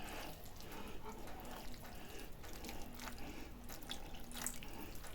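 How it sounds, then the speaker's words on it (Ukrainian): Water poured into a pan of partly cooked rice with vegetables, a steady splashing trickle with faint bubbling and small clinks over a low background hum. "Тому я додаю ще водичку."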